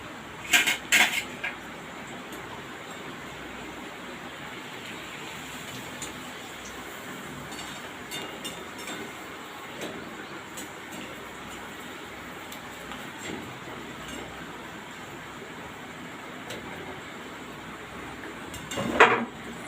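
A metal wok clatters as it is set on a gas stove in a home kitchen. A short burst of clinks sounds at the start and another near the end, with a quiet hiss in between.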